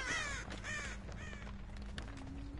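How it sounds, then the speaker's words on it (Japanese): Crows caw repeatedly in the Dead by Daylight video game, playing as the Huntress, with several harsh calls over low steady game ambience. "この辺カラスがいるからいないな"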